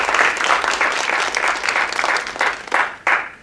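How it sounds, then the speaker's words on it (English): Loud, close applause from an audience welcoming panelists at a youth activism discussion, a steady wash of clapping with a few sharper individual claps near the end. "So a round of applause for our panelists."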